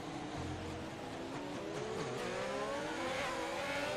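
Race cars in the F1 2021 video game at the Chinese Grand Prix circuit, engines droning and shifting pitch continuously as the pack circles the track, steady and fairly loud with no talk.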